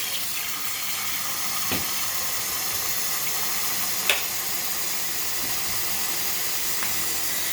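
Cold tap water runs steadily into a very hot pot sitting in a kitchen sink after draining saltfish, a continuous close hiss and splash with a few brief clinks.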